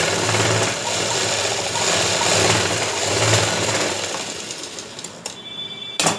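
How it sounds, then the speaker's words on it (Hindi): A sewing machine stitches along the edge of a trouser hem in a steady mechanical run that wavers slightly, then slows and stops with a few clicks near the end, with no voices. "फिर इसको ये ऐसे बिल्कुल ही किनारे पे सिलाई लगानी ताकि फिनिशिंग आए"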